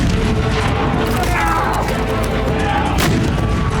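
A replica early cannon fires at a test range, a single loud blast with a sharp crack near the end over a dense, rumbling background; no speech is heard.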